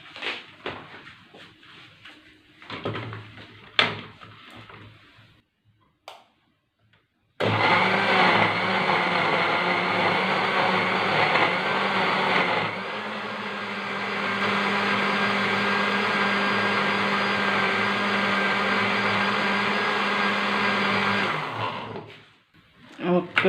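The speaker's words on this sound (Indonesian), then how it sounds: "Dan terus di blender sahabatku." A kitchen blender runs loud and steady, whirring through onions and water for a tomato rice dish, holding for about fifteen seconds before stopping; a person talks briefly just before it starts.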